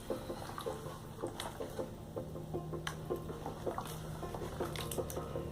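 Plaster mix is stirred by hand in a bowl, making soft, rhythmic squelching and slapping pulses that repeat steadily and close up, with faint ticking and a low background hum.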